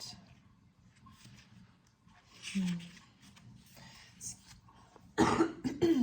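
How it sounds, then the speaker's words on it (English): Someone clears their throat with a harsh, raspy burst near the end, following quiet talking that fills most of the moment. "Clear my throat."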